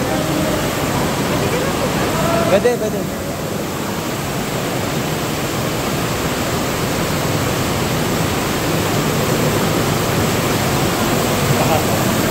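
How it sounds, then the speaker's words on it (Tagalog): Strong river water rushes loudly through Tinipak cave in Daraitan, Tanay: a steady, close, unbroken roar that fills the whole stretch, with a few brief voices speaking over it. "Lakas ng tubig."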